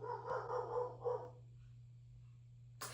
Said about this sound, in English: Not my dog barking in the background right when I said that.